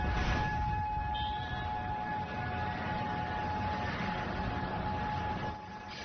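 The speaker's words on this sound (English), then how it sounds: "you can hear those sirens blaring as the tornado tore through Jackson today" Tornado warning sirens blare over Jackson, Mississippi as a massive twister tears through, a steady loud wailing tone holding throughout amid rumbling background noise.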